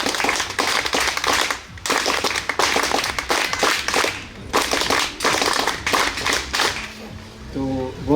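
Loud, dense audience applause at an NSS camp gathering on campus, clapping in several close surges with short dips between them.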